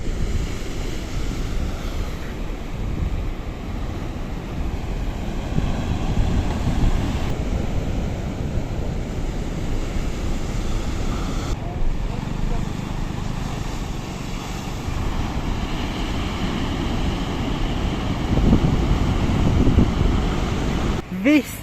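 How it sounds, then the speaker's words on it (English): Big sea waves surge along the seafront in Tangier, a steady broadband roar of surf with wind buffeting the microphone throughout, swelling slightly louder near the end. "along to this area on the seafront where there's some very big waves"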